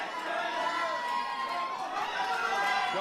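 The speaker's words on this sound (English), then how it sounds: "the crowd is fired up" An excited crowd cheers at the Dakota Shipton vs Deklan Harper match, a continuous roar of many voices with rising swells. Commentator voices sit faintly within it.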